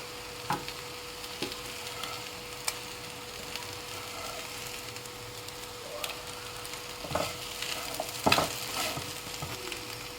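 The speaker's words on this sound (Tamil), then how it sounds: "இது மாதிரி நல்லா ப்ரௌன் ஆகுற வரைக்கும் நல்லா ஃப்ரை பண்ணுங்கள்" Pieces of mutton chukka fry on low heat in a pan with a steady, soft sizzle, broken by a few louder scraping stirs near the end, with no voices.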